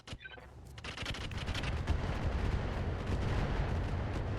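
Mech weapons open fire on a Blackjack mech in the video game RogueTech: a sharp opening blast, then a dense, sustained barrage of rapid shots and heavy impacts rumbling continuously.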